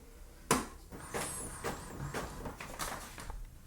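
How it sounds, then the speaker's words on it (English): An Epson EcoTank ET-2850 inkjet printer works through a page up close: a sharp mechanical clack followed by a run of whirring feed motor sounds and intermittent clicks, with no talking. "press the print button, and usually in under 15 seconds, the result should come out of your printer"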